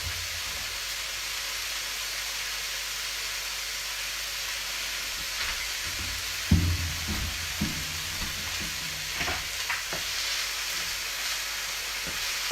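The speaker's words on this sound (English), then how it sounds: "is really just a matter of using your time wisely while everything else is sauteing up" Ingredients for a sweet and sour dish sauté in a pan with a steady, quiet sizzle, while utensil clatters, stirring knocks and a few sharp clinks break through midway and toward the end.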